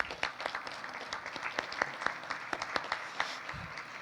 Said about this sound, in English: Now give yourself applause.